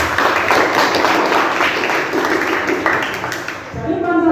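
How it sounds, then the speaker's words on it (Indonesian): Classroom applause during a teaching lesson on Pancasila, with a steady wash of clapping from the class that fades near the end as a voice begins speaking. "Ya, tepuk tangan."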